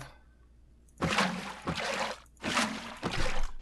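Water bucket emptied in Minecraft: two separate splashy pouring bursts, each about a second long, loud and close with no talk.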